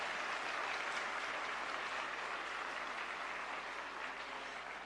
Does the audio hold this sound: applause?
yes